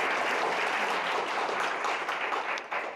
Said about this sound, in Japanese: これ拍手です。